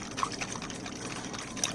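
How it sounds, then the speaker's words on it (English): An oil and aloe vera mixture is whisked into warm water in a container, giving a steady wet sloshing and trickling with a couple of small splashy clinks, close and moderately loud. "I'm just gonna whisk this a little bit longer."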